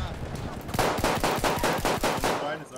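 Battlefield 1 machine gun fire in a rapid, even burst of about a dozen loud shots, dense and close, with a faint murmur of voices beneath.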